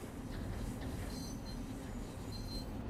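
A New York subway train in Train Sim World 4 pulls into Grand Central Terminal, a steady loud rumble of rolling wheels with intermittent high squeals from the rails, no speech.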